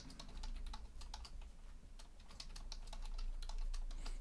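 A password is typed on a computer keyboard in a steady run of quick, light key clicks, close and fairly quiet, over a low hum with no talking.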